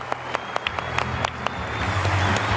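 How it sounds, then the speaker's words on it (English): Audience applause for Sir Richard Branson at the end of a live interview: a few scattered, distinct claps at first, then swelling into a fuller, denser round of clapping from the crowd. "please give Sir Richard a round of applause"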